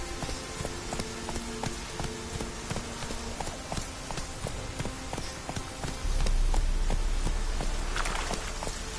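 Roach the horse galloping in The Witcher 3, a rapid steady clip-clop of hooves under game ambience and music, with a louder rumble joining for the last few seconds.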